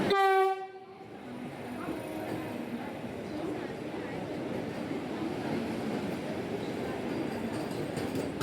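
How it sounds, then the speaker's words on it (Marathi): The Vande Bharat Express, train 22223 bound for Sainagar Shirdi, sounds a brief loud horn and then rolls into the station with a sustained rumbling roar of wheels and motors that carries on to the end. "तर आपली आता ही 22223 साईनगर शिर्डी वंदे भारत एक्सप्रेस आली आहे."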